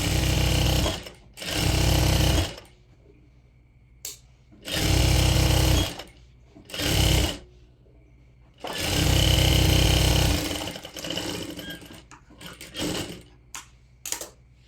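Sewing machine running a double stitch in short loud bursts, a fast mechanical whirring that starts and stops several times with quiet gaps between runs, close by.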